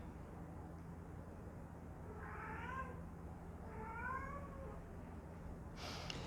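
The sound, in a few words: cat meowing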